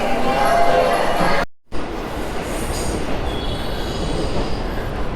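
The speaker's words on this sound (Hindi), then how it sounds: "तो ये है, देखिए ये लोकल ट्रेन।" A JR local rapid train runs between Kyoto and Osaka with a loud, continuous rumble of wheels and carriage noise, broken by a brief cut, then rolling on with faint squeals.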